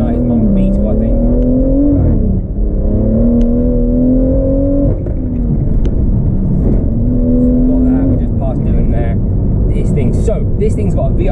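A BMW M140i with a VRSF catalyst downpipe and Remus midsection and back box drives on B roads, its engine note rising and dipping through gear changes. Someone talks over the steady drone of the car.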